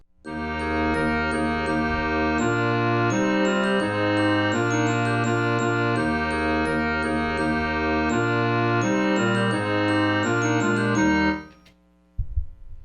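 A computer plays back a full concert band score with the clarinets dropped an octave and percussion kept in: steady, loud, layered sustained chords over a pulsing low line, running continuously before cutting off near the end.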